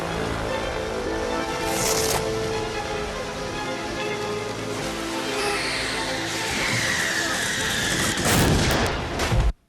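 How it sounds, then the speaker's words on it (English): A massive explosion in the Alien 3 film final sequence roars as a dense, sustained blast with rumbling debris and sharp crackling bursts, loud and continuous for several seconds before cutting off abruptly. "You get the massive explosion."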